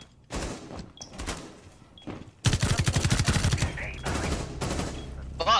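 Rapid bursts of automatic and repeated gunfire in a Rainbow Six Siege match, sparse at first then a loud, dense volley of close shots with thuds, rattling on to the end.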